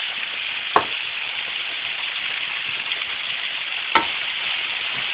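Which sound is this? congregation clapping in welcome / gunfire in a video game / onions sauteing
onions sauteing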